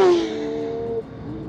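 A Porsche 911 GT3 screams hard on a race track at Landau, a loud high-revving engine note climbing then shifting, with a clear gear change about a second in.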